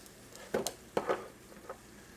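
Red peppers and cheesesteak meat stirred in a pan, giving a few soft scraping and squishing strokes with faint sizzle beneath, close by and fairly quiet, no talking.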